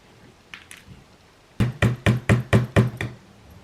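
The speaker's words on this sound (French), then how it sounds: "J'y vais littéralement à la pince à épiler et au marteau." A small hammer tapping tiny model trees into an interior architecture scale model: a few faint light taps, then six sharp, evenly spaced knocks in quick succession, close and crisp.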